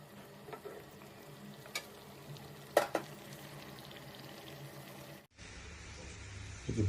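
A pot of chakki curry made with chickpea flour bubbles and simmers quietly, with occasional spoon clinks and stirring scrapes, low and close, and the sound shifts abruptly near the end.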